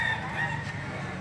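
A rooster crows close and loud at a poultry market in Lipa City, Batangas, a brief sustained call over a busy background.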